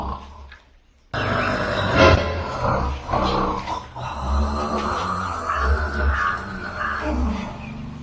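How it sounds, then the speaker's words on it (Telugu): A person snores in a home, coarse rasping breaths rising and falling in a rough rhythm after a brief quiet start, loud and close. "కూడా గురక సౌండ్ వస్తుందా?"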